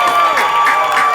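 A theatre audience claps and cheers for a performer and his band, a short, dense burst of applause with a few raised voices, steady and fairly loud throughout.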